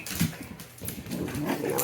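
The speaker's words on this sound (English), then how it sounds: "Crazy puppies." Excited puppies whine and whimper close by in a busy indoor scene during a potty-training session, short high yelps and soft growly noises overlapping in quick bursts.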